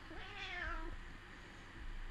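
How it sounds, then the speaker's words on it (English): A domestic cat gives one clear, drawn-out meow, close and moderately loud over faint room noise, then falls quiet. "I think the cat says hello."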